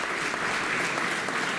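Thick, even applause from an outdoor crowd at a 2019 living nativity event in Panettieri, many hands clapping together in a steady wash.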